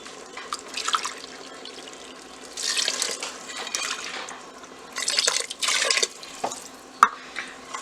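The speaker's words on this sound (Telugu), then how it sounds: "2 కప్స్ బాస్మతి రైస్కి 3 కప్స్ వాటర్ పోసుకుంటున్నాను." Water poured over basmati rice in an Instant Pot, several uneven bursts of splashing and trickling separated by quieter pauses, close and fairly soft.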